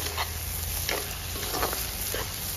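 Water poured into a hot pot while cooking a Bihu festival dish, a soft steady sizzle and bubbling with faint intermittent crackles, fairly quiet and close.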